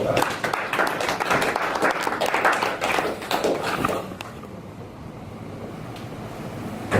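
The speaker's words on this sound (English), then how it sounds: "Give him a round of applause." Applause from an audience at a live speech, loud and steady clapping for about four seconds that then fades to quieter room noise.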